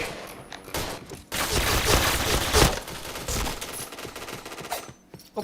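Rapid bursts of automatic gunfire from the online shooter game Point Blank rattle through a dense fusillade lasting a few seconds, loud and close, then thin out into a few scattered shots.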